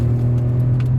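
A Seat Ibiza small car pulls on a winding road with its engine humming steadily under load, a constant low drone inside the cabin with faint brief ticks, no talking.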